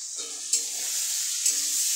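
Turmeric and chili powder frying in oil with potatoes in a pan, a steady close sizzle with soft scraping stirs, including two small clatters from the spoon, and no voices.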